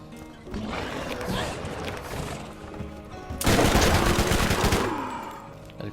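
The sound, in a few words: gunfire from tougher weapons in the video game Borderlands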